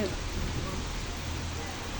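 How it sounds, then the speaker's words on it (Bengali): Steady rain pouring down during a storm, a dense even hiss close by with no breaks. "দেখেন বৃষ্টির শব্দ"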